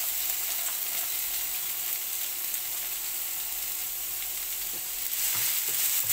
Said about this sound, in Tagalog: Medyo prituin natin ng unti itong ating patatas at carrot.